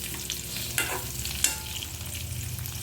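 Stuffed sponge gourds cook in oil in a pan, giving a steady soft sizzle with a couple of sharp clinks of stirring or shifting, close and alone.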